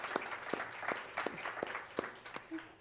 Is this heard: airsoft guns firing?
no